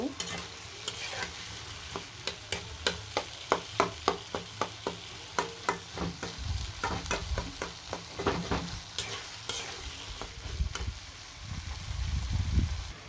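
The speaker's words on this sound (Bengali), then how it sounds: "আলু আর বোট দিয়ে ভালো করে লাড়াচাড়া দিয়ে কিন্তু খুব সুন্দরভাবে ভেজে নেব" Spiced potatoes with bori being fried and stirred in a pan for a Bengali dish, a spoon scraping and clacking against the pan in a steady rhythm over a continuous oil sizzle, close and fairly loud, no talking.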